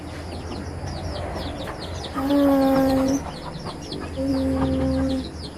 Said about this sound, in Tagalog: Ayan, ito naman sila. Ang mga inahin.